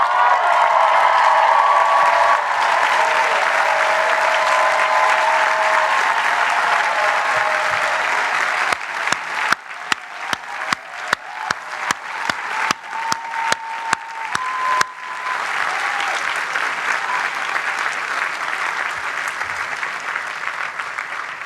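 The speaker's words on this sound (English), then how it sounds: "give a round of applause to those who helped them on their journey" Graduating students at a Harvard commencement applaud the families and staff who supported them, a loud, sustained crowd applause that thins into a run of sharp individual claps before swelling again.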